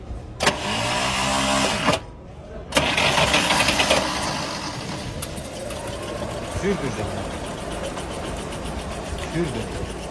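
A GAZ 24 car's engine cranks, catches and settles into a steady idle, loud and close, while people talk nearby.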